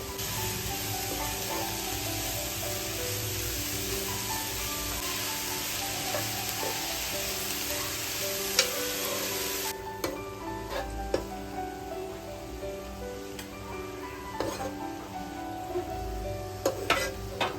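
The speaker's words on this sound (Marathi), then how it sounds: "भाज्या अशा छान परतत राहायच्या आहेत" Mixed vegetables with corn are stir-fried in a pan, giving a continuous soft sizzle with intermittent spoon clicks and stirring taps. The sizzle thins partway through while the scattered utensil knocks continue, and no one talks.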